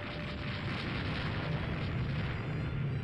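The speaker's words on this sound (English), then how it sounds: "3-inch gun's gotta be doing damage to that guy" 3-inch naval gun firing in the Rule The Waves 2 naval game, a dense continuous roar of distant booming shots blending into a steady rumble throughout.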